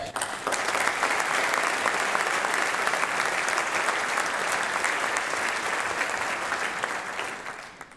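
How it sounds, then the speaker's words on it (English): A breakfast audience applauds the year's Fast 50 honorees, a dense, steady wash of clapping that holds strong for about seven seconds before tapering off. "Let's give this year's Fast 50 honorees a well-deserved round of applause"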